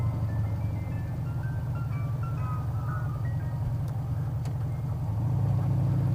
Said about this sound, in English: Or that's an ice cream truck.